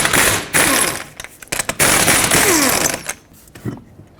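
An impact wrench with a 21mm socket hammers lug nuts off the front wheel of a 2003-2008 Toyota Corolla in loud, rattling bursts of about a second each, separated by brief pauses.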